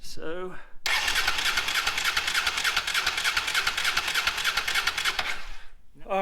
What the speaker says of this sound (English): turn it on and let the motor spin over